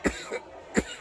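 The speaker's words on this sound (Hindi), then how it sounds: "खांस रहा हूँ मैं।" A man with a cold coughs twice, sharp and close, with a brief gap between the rough bursts.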